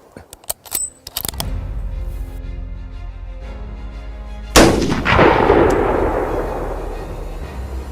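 A single loud rifle shot rings out during a giraffe hunt in the African bush, its sharp crack followed by a long rolling echo, preceded by a few brief clicks and handling noises.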